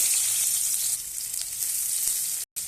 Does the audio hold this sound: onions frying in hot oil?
yes